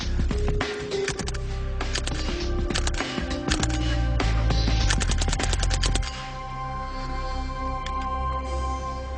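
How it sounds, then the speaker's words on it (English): Rapid bursts of suppressed Mark II Sten gun fire ring out as bullets strike a steel plate, loud, close, dense clattering impacts in quick strings for about six seconds before a quieter ringing tail. "the bulk of the noise you heard was the bullet impacting on that steel plate"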